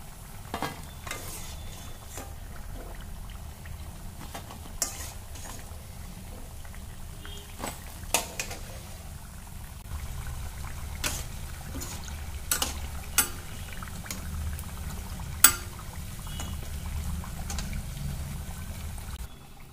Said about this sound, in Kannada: ಹಿಂಗೆ ಸಣ್ಣಗೆ ಉರಿ ಇಟ್ಟು ಕುರು ಆಗುವಂಗೆ ಕರ್ಕೋಬೇಕು ನೀವು